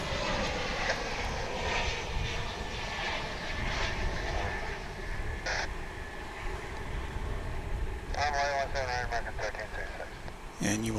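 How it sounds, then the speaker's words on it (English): An American Airlines Airbus A321 jet departs at Dallas Fort Worth International Airport, its engines giving a steady, broad roar that fills the whole clip, with voices talking over it and a few brief chirping sounds near the end. "This is American Flight something or other to Las Vegas, an A321."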